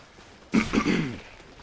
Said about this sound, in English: I feel like I've got to clear my throat